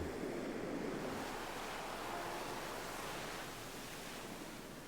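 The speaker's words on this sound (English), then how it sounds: "Doesn't this look like a shoreline, right? And then you hear the wave sounds." Ocean waves washing onto a shoreline as a steady broadband roar of surf, faint and distant-sounding, continuous for five seconds with no voices.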